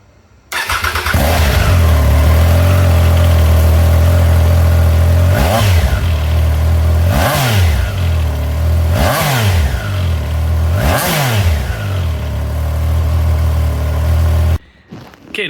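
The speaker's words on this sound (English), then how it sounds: "here is the before with the stock exhaust" Triumph Trident 660 motorcycle engine with stock exhaust, idling steadily then revved four times in sharp blips that rise and fall back, close and loud, with no talk, ending in an abrupt cutoff.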